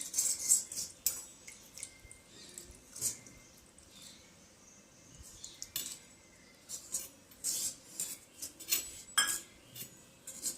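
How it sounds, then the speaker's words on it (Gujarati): A spoon clinks and scrapes against a bowl while milk is poured in and mixed with custard powder, intermittent close metallic taps and soft stirring sounds, fairly quiet and with no speech. "હવે આપણે ધીમે ધીમે એમાં આ 1 વાટકી દૂધ હતું એ નાખી દઈશું."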